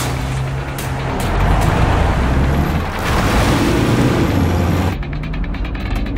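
A car on the road follows a taxi, its engine and tyre noise a loud steady rumble with passing traffic swelling and fading around it.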